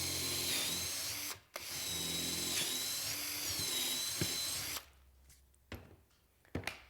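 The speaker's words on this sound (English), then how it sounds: "we're simply going to drill a hole until the stop collar touches" A power drill bores a screw pocket hole through wood held in a pocket-hole jig, a loud steady whine running nearly five seconds with a brief pause partway, then cutting off and leaving a few faint clicks and taps.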